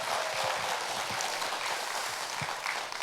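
An audience applauds a Korean song-and-dance performing arts troupe at the close of a traditional music evening. The clapping is a dense, steady, somewhat distant wash that holds for the whole stretch.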